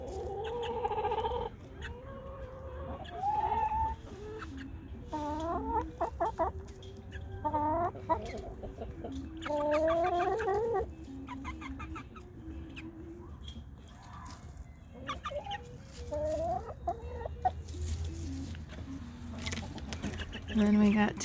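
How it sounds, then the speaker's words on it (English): Chickens in a backyard flock with newly added birds cluck and give rising squawks and calls through a long stretch, close and lively, while a person speaks softly at times. "Saying hello to the new birds."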